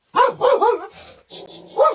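A dog barks several times up close, in short loud yelps with a brief pause between the bursts.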